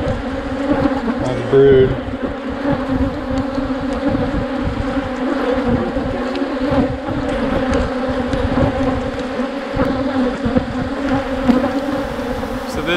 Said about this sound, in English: We've got thousands of bees swarming us.